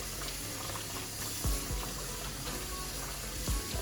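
Tap water runs steadily into a sink while small Pyrex glass bowls are rinsed, with a couple of brief clunks of glass against the basin over the continuous flow.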